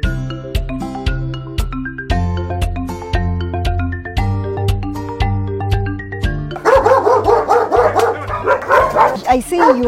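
Several farm dogs bark loudly at feeding time, a steady run of sharp, close barks and yips that turns into a dense, overlapping chorus near the end.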